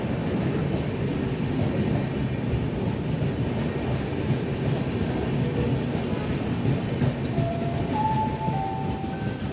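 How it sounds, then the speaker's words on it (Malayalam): A train arriving at a station platform rumbles steadily close by, with a faint clickety-clack of wheels on rails and a brief high tone near the end. Nobody speaks. "ഇനാഗുറൽ ട്രെയിൻ അല്പസമയത്തിനകം പ്ലാറ്റ്ഫോം 1 എത്തിച്ചേർന്നതാണ്"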